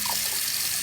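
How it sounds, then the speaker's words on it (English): Tap water runs steadily into a sink to rinse off items soaked in bleach, a continuous close splashing hiss lasting under a second with no voices. "then we'll rinse them off with the water"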